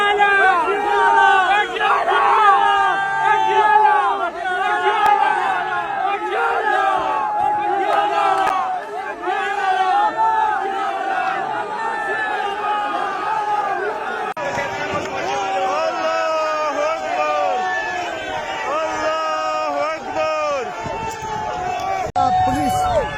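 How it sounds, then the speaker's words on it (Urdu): Crowd of political workers at a rally in Islamabad loudly chanting slogans, massed voices rising and falling in rhythmic shouted waves, close and continuous throughout. "کارکنان نے یہ نعرے لگانا شروع کر دیے"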